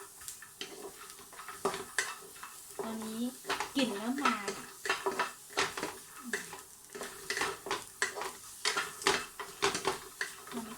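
Shallots and garlic dry-roast in a pan, a spoon scraping and clinking against the metal in irregular bursts with a soft sizzle beneath, close up, while someone talks over it.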